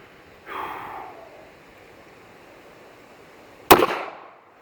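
A single sharp gunshot from a small .380 pistol or derringer cracks loud and close, preceded by a brief breathy rustle and followed by a short fading echo outdoors.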